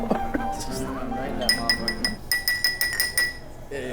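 Glasses raised in a toast clink together at a lively gathering, making a quick run of bright, ringing chinks one after another while people talk loudly over them.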